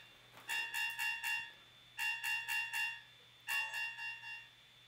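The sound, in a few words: alarm device sounding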